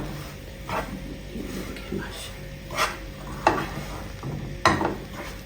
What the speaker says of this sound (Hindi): अब इसको मिक्स कर देंगे अच्छी तरह